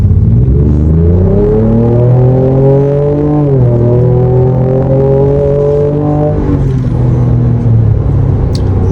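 Deep, loud exhaust of a 2025 Ford Ranger Raptor in Baja exhaust mode rumbling up under acceleration, pitch climbing steadily, a brief dip at a gear shift, then building again close by.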